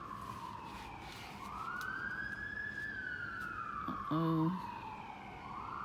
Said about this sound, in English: Could be fire truck, could be ambulance, could be cops, who knows. Yeah, it looks like an ambulance.